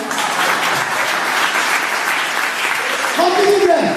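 A church congregation applauds steadily throughout, a dense, loud clapping that swells slightly near the end, with a voice rising over it.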